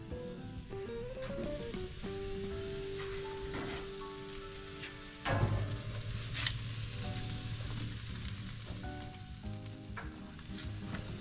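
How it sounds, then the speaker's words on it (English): Onions and garlic sweat in a pot on a Crown Verity grill, giving a steady soft sizzle with occasional stirring clinks. Background music plays over it. "I'm going to actually just get the onions and garlic into the pot, and we're going to sweat those on our grill"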